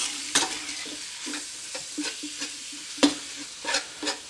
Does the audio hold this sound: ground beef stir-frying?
yes